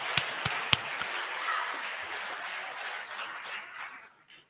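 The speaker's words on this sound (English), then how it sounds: "Another round of applause." Audience applause at an inaugural professorial lecture, a faint, distant patter of clapping with a few sharper near claps at the start, tapering off after about four seconds.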